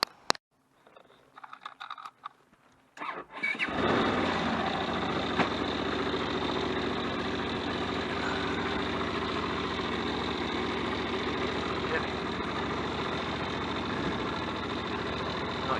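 After a few seconds of quiet rattling and handling, a motorbike engine comes in and idles evenly and continuously nearby, with no voices.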